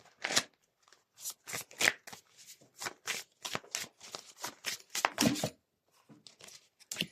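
Tarot and oracle cards shuffled close up in a quiet room, with a run of crisp riffling bursts and short pauses between them and no talking.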